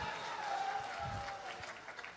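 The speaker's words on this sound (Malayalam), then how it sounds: "എല്ലാവരും ആത്മാർത്ഥമായിട്ടൊന്ന് കൈയടിച്ചേ" An audience claps at a live Malayalam comedy stage show, a soft, steady patter of applause heard at a distance, with a voice speaking over it.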